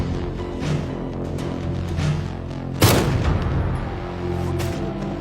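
Sniper rifle shots ring out in a film scene: a run of booming reports over a continuous rumbling battle bed, with one especially sharp, loud crack near the middle.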